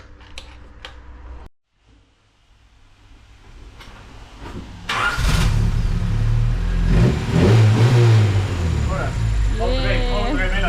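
A Honda Civic EG engine with a misfire, running on four cylinders, falls quiet before catching and starting, then revs loudly several times in rising and falling surges close by, with short bursts of talk between revs.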